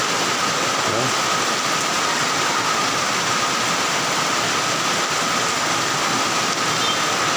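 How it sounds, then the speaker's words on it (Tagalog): Heavy rain pours in a steady, dense hiss that fills the whole clip, loud and unbroken, during a storm with high seas flooding a seaside basketball court. "Kusog ang uwan, plus dako ang dagat."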